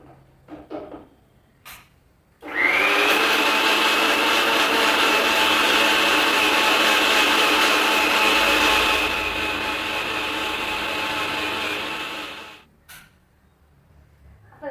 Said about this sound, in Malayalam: ഇനി നമുക്കിതായി തേങ്ങയും പുളിയും കൂടി ഇട്ടുണ്ട് കേട്ടോ മിക്സിയിൽ ഇതൊന്ന് അരച്ചിട്ട് വരാം